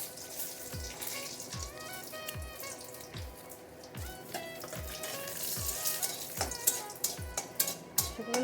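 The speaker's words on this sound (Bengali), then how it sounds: "প্রথমে একটু শুকনো লঙ্কা কটা ভেজে নেব।" Dried red chillies fry in hot mustard oil in a village kitchen, giving a faint, steady crackling sizzle with light pops, underpinned by a soft, regular low knocking throughout.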